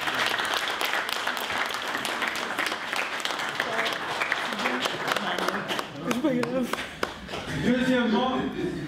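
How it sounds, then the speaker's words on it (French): Audience applause at a French forum on gender parity, a dense wash of clapping filling most of the stretch before thinning out, with voices and cheering rising near the end. "je voudrais que vous applaudissiez"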